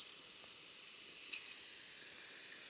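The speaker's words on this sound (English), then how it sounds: "It seems to be letting steam out." Steam hisses steadily out of a pressure vessel as it vents, a continuous, even rush with no voices over it.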